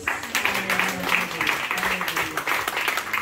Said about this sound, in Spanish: Felicitémoslos con una ofrenda de palmas.